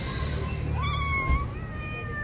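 A cat meows close by in a single drawn-out, rising then falling cry, heard clearly over faint background hum with no talk.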